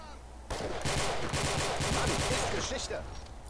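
Rapid gunfire in the World War II video game Iron Front, a dense burst of automatic shots and cracks that starts abruptly and continues for about three seconds.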